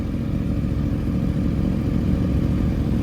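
A 2023 sport bike, Honda CBR 1000RR or Yamaha R1, idles cold nearby with a loud, steady low-pitched engine rumble and fast throbbing pulses, unchanging throughout.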